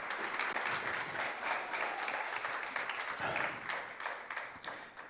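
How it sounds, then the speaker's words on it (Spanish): Congregation applauding in a church during a Spanish-language sermon, a dense steady wash of many hands clapping throughout, with some voices mixed in. "Dale un aplauso al Señor."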